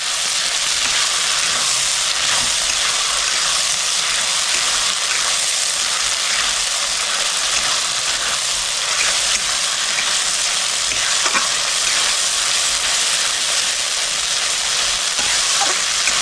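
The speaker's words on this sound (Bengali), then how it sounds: "আমি এখানে আদা রসুন লঙ্কা আর পেঁয়াজ বাটা দিয়ে দিচ্ছি। ভালো করে মিক্স করে নিচ্ছি।" A steady, loud sizzle of ginger, garlic, chili and onion paste frying with melted tomatoes in a pan for a prawn curry, with faint stirring scrapes running under the constant hiss and no talking.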